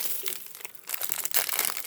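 Plastic wrapping around a leather belt crinkles and tears as it is pulled open by hand, a close, steady crackling that grows louder in the second half with no talking.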